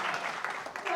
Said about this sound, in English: Can we applaud this young man's beautiful question?